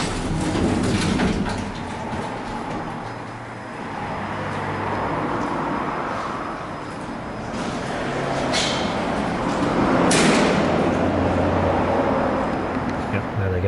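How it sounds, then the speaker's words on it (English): Lift doors in a shopping centre in Poole, Dorset slam shut hard enough to bounce apart in the middle, giving sharp knocks over a rumbling, echoing background hum. "there they go, so literally slamming so hard that they actually bounce in the middle"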